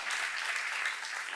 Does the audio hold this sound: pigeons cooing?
no